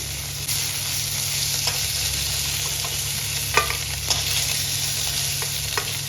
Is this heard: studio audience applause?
no